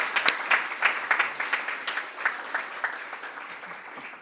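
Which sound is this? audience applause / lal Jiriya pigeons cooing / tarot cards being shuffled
audience applause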